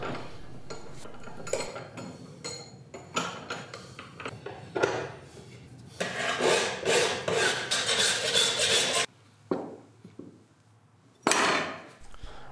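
A hand file is worked over bevels on a forged steel drawing compass, giving bursts of rasping strokes with metallic clinks and knocks in between. The strokes come in irregular groups with short pauses and a near, moderately loud sound.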